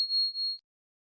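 A bright notification bell ding, a single clear high chime that rings out cleanly for about half a second, alone with no talk.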